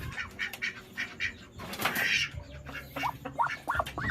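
A domestic duck sitting on eggs shifts and flaps its wings in a brief close burst, with soft quacks and squawks around it, all fairly faint.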